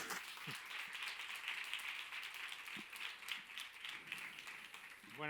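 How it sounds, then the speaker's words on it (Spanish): Audience applause at an international pastry exhibition, steady clapping from a crowd that sounds somewhat distant and quiet, with a few voices briefly heard. "Un fort aplaudiment."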